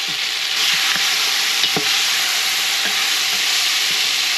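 Tomato paste caramelizes in a soup pot for vegetable soup, hissing loudly and steadily with a few scattered soft pops and scrapes, heard alone.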